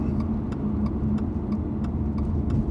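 Inside a Toyota GR86 fitted with a Greddy Supreme SP exhaust, a steady droning engine hum with faint rhythmic ticking over it, heard at moderate level from the cabin.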